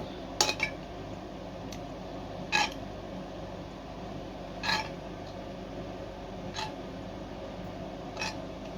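Spoon clinks against glass jars several times at irregular intervals, with soft scraping of fried vegetables in between over a steady hum of a room.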